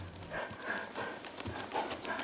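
A horse's hooves clip-clop at a walk as it circles to the left during a dressage session, a steady series of moderate hoofbeats close by with no talk.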